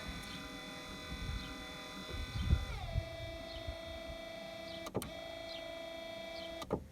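Wiper motor on a 1993 Chevy Lumina APV running on high after repair: a steady electric whine that drops in pitch partway through, with brief clicks and thumps, faint and close, with no talking.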